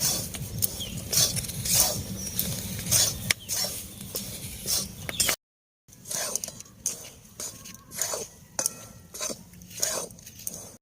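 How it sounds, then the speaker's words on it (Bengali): Rice and salt dry-roast in a pan with close rattling, scraping strokes and light patter, broken by a short silent gap midway. "চালগুলোর সঙ্গে লবণ লবণ দিয়ে দিচ্ছি এবার ভেজে নেবো"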